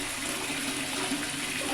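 Water runs steadily from a tap into a tank fitted with a simple float level switch, a loud, even gushing rush that fills the whole moment with no voices.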